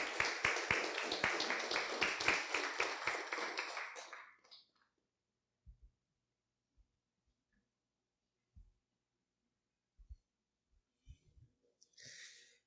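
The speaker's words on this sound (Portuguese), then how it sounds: "Vamos aplaudir o Senhor Jesus." A church congregation claps in a dense, rhythmic burst of applause for about four seconds, then stops, leaving near silence broken by a few scattered taps and small knocks.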